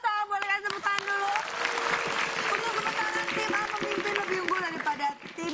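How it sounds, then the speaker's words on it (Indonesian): Studio audience on a game show clapping after the scores are read, a burst of applause mixed with cheering voices and bright musical stings, staying lively throughout. "Boleh kasih tepuk tangan dulu."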